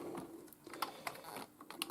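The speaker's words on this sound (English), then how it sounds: "we'll disconnect the keyboard" An Amiga 1200 keyboard is unplugged inside the opened computer. Small plastic clicks and taps fall in quick, uneven bursts, close by and fairly quiet.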